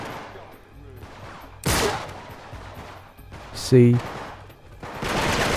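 Gunfire in the video game Uncharted 3 at the Citadel, a few sharp bursts of shots, loud and close, spaced out between stretches of the player talking.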